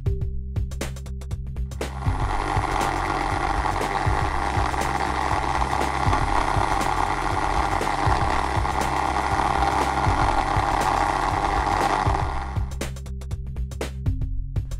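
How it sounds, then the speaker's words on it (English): A Dremel rotary tool on a low speed setting runs a buffing wheel with polish inside an airsoft cylinder. It gives a steady, fairly loud motor whine and buzz for about ten seconds, then stops, with brief handling clicks before and after. "Using a low speed setting on a Dremel and using a buffing reel, spread the polish around the inside of the cylinder."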